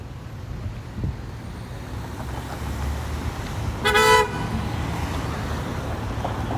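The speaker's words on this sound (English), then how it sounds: "It's never ending of bad drivers and honking horns." A single loud car horn blast rings out for about half a second over steady traffic rumble on Queen Street West in downtown Toronto, with the roadway noise continuing before and after.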